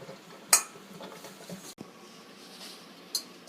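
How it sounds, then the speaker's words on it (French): Boiled potatoes are mashed with a whisk in a bowl: soft, muffled squishing and scraping broken by a couple of sharp metallic clinks as the whisk strikes the side. "Donc nous écrasons nos pommes de terre avec le fouet, tout simplement comme ceci."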